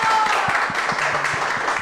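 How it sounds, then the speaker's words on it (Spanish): Audience applause at a Mother's Day tribute gathering in Biblián, Ecuador, a short burst of scattered hand clapping close by under a warm crowd hum. "Un aplauso fuerte para Danilo y Angie,"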